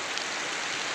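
Heavy rain pours down in a steady, dense hiss with no break, loud and enveloping.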